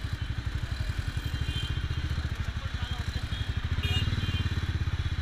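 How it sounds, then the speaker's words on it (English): A Ducati 899 motorcycle engine heard from the rider's own bike in Bangalore city traffic, a steady, close, pulsing low thrum with even rapid firing beats, holding at a constant loudness throughout. "this is the first time I'm listening to my own bike with that"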